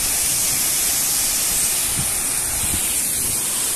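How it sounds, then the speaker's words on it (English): A big waterfall in the woods beside a lake gives a loud, dense roaring hiss, constant and close, filling the whole moment without any talk. "Yeah, the waterfall is kind of so big."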